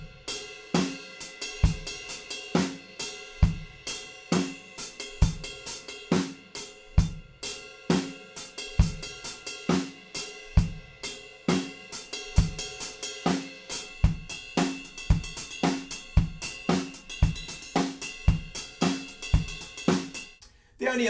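Drum kit groove for a song with a cowbell part over steady kick and snare, a bright, dense, even rhythm of many close, loud hits running throughout without talk.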